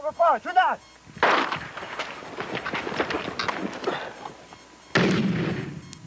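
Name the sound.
grenade fired from an RPG launcher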